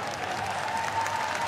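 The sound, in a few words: netball crowd applause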